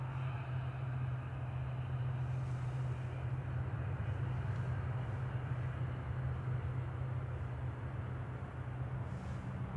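Aircraft arrives at Manchester Airport on its landing approach, a faint, distant, steady roar of engines holding constant across the whole stretch, with no voices.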